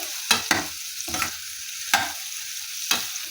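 A spoon scrapes through kankoda (spiny gourd) vegetable curry in a pan in about five quiet, separate strokes over a faint sizzle.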